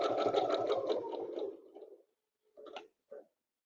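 Home sewing machine stitching the end of a round, a close rapid mechanical chatter for about two seconds that slows and stops, followed by two short quiet bursts of stitching.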